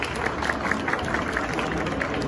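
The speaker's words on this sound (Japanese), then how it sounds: "拍手をお願いいたします。" Audience applause at a vegetarian and vegan talk session during an inbound market expo, dense even clapping from a crowd, moderately close and continuous throughout.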